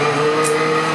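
A Ford GTE race car engine in the racing game iRacing holds a loud, steady drone for a brief moment, with no talk.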